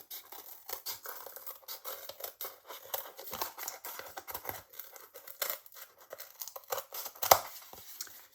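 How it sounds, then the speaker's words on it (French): Scissors snip through paper while a Christmas decoration is cut out, a steady run of close, crisp cuts and light rustles repeating irregularly, with no voices. "Et maintenant, je découpe un peu mieux."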